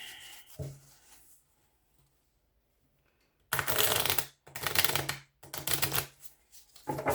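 Several loud riffle shuffles of playing cards in close succession, crisp fluttering bursts separated by short pauses, after a quiet stretch with a brief murmur.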